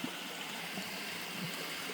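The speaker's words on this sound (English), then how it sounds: "The creek is running a little bit high, but not flooding." Forest creek running high after rain at night, a steady soft rush and trickle of flowing water, fairly quiet and continuous.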